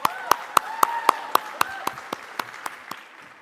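An audience claps for a speaker at a conference in a hall, with sharp, evenly spaced claps that ring out and slowly thin toward the end.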